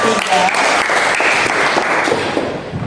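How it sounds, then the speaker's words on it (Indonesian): Students in a junior high classroom give a short, loud burst of clapping for a presenting group, close and crowded, with faint voices mixed into the applause before it trails off. "tepuk tangan buat kelompok 3"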